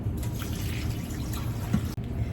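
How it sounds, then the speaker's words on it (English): Water poured into a stock pot over meat and vegetables for bone broth, a steady close liquid trickle and splash running throughout, with a small knock near the end. "I'm gonna add enough water just to barely cover the meat portion"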